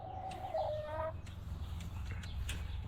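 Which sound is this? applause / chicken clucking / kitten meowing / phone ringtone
chicken clucking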